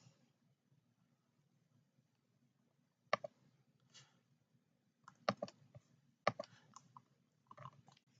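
Sparse, quiet keystrokes on a computer keyboard while setting up a VPS, a few isolated sharp clicks and one firmer press, close by in a quiet room.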